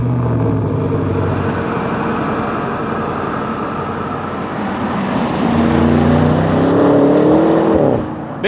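Audi RS6 Avant V8 with dual oval exhaust, a steady engine drone that swells into a louder rising rev near the end, with no talk over it.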